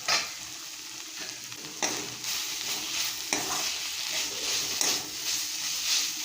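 Pumpkin leaves cook in a covered pan over a low flame, a steady gentle sizzle and frying hiss broken by a few sharp clanks and stirring scrapes, close by with no talk.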